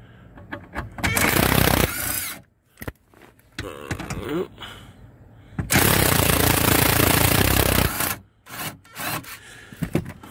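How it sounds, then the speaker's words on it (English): Two long bursts of a compact power drill whirring at high speed while removing 8mm fasteners in a car, broken by short pauses and brief clicks and rattles. "Usually I use a ratchet, but it's just easier to use the drill, a lot faster."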